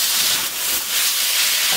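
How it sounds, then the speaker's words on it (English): White onion and Prik Ki Nu peppers stir-fry in a hot pan for Thai drunken noodles, giving a loud, constant broad sizzle and hiss with slight swells, close and with no voices. "Put in a white onion. Stir fry this off here for a minute."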